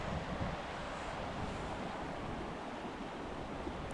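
A river along the Marble Canyon hiking trail in the Canadian Rockies rushes steadily, a dense, even roar of flowing water with some wind mixed in, heard without talk.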